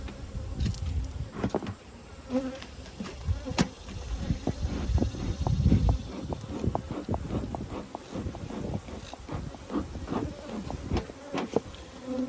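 Honey bees clustering at the top of a hive give a steady, close buzzing drone, with individual bees flying past the microphone and occasional soft knocks and rustles.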